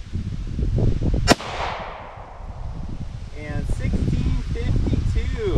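A single sharp gunshot from a Ruger 57 pistol in 5.7x28mm cracks loudly outdoors and rings off, with rustling and a voice speaking afterward.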